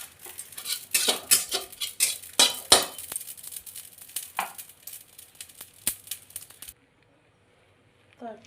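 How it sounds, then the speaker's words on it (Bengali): A spoon stirs carom seeds and radhuni spices in a pan of oil, clinking and scraping busily for several seconds before stopping abruptly into near silence, with a faint clatter at the very end. "জোয়ান রাঁধুনি ফোড়ন দিয়ে একটু ভালো করে নেড়ে নিতে হবে"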